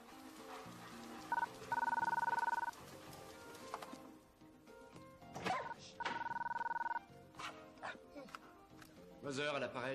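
A telephone rings in two separate bursts, a steady electronic trill, with voices talking and background sounds between the rings.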